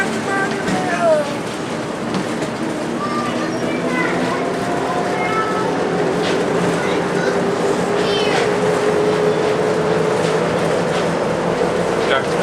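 Riding aboard a monorail car, a continuous rumbling hum with a rising whine as it moves, under steady chatter and voices from passengers nearby.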